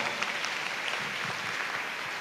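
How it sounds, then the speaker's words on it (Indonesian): Steady applause from a seminar audience at Stella Maris parish in Jakarta, a dense wash of clapping that holds evenly throughout with no voices standing out. "Tepuk tangan dong untuk KKS juga."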